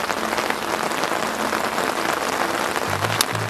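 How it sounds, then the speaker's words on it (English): Heavy rain falls during an outdoor wiffle ball game, a dense, steady hiss of drops spread evenly throughout, with a faint low murmur near the end. "As we got severe rain now."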